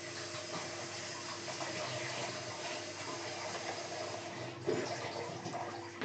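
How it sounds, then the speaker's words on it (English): Tap water runs steadily as hands are washed after painting, a constant moderate hiss with a slight splash near the end and no speech. "Let me just wash my hands."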